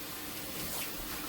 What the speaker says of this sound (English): I'm going to give them a quick rinse.